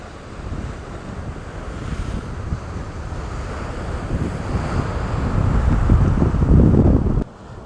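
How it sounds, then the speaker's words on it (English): Rough ocean waves crash against the rocky Aruba coast in a continuous heavy roar, building louder toward the end under strong wind buffeting the microphone, then cutting off abruptly. "Look how rough the waves are here."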